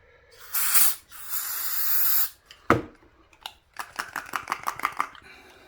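Brake cleaner sprayed from an aerosol can onto VW flywheel bolts, two long hissing bursts followed by sharp metallic clinks and rattles of the bolts, close and fairly loud.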